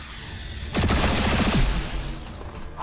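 XCOM 2 gunfire: a sudden loud volley of shots that rings out for about a second, then fades into a lingering rumble and low background hum.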